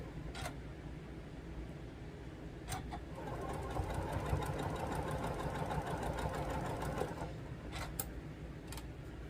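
A sewing machine chain-pieces quilting fabric using a leader and ender, with a steady close mechanical hum and rapid needle ticking throughout, plus a few sharp clicks.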